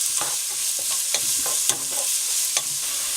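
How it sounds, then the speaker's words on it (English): Celery, carrots and onions being stirred and sauteed in a pan, a steady close sizzle broken by repeated scraping stirs at an irregular rhythm. "Give it a good stir and continue sauteing for about a couple more minutes"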